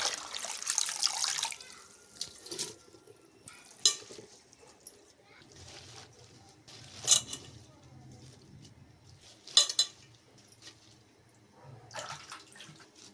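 Gongura leaves are washed in a bowl of water for biryani. Water splashes and sloshes in several separate bursts, with quiet handling sounds between them and a voice speaking in the background.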